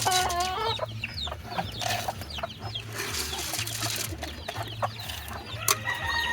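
Silver bullet hens cluck and chatter close by, with short bird calls and squawks scattered over a steady low hum.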